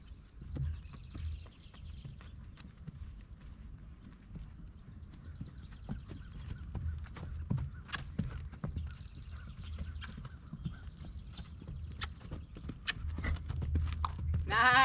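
Horse cantering under a rider, hooves striking the ground in a quick, uneven run of thuds and clops, fairly faint against low wind and outdoor rumble.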